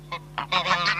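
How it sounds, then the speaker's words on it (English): Geese from a flock in rural Ireland honking close by: three or four loud, nasal honks in quick succession, the later calls overlapping, with no talk. "Fine flocks of geese and a pet of a gander feeding out of a pot are rare sights nowadays anywhere in rural Ireland."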